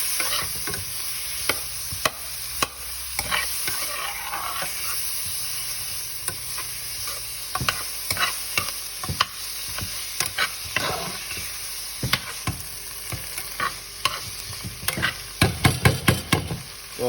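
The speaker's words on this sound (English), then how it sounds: "Just to get these vegetables nice and, you know, brown." Bell peppers, onions and jalapenos fry in butter in a pan, giving off a steady hiss and sizzle. Frequent clicks and scrapes of stirring break through, growing busier and louder toward the end.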